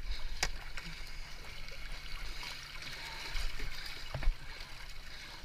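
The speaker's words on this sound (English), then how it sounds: "That's too many waves." Water laps and splashes against rocks in a steady, moderately loud wash, with a few sharper splashes near the start and just after the four-second mark.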